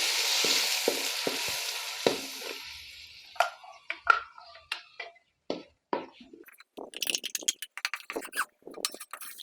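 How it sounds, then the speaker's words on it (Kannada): Curry leaves and mustard seeds hit hot oil with a loud, sharp sizzle that fades, followed by a run of close metallic clinks and stirring scrapes in the pan while cooking Giriraja chicken curry. "ಈ ಎಣ್ಣೆ ಕಾದ್ಮೇಲೆ ಅದಕ್ಕೆ ಕರಿಬೇವು ಮತ್ತು ಸಾಸಿವೆ ಇದನ್ನು ಹಾಕ್ಕೋಬೇಕು"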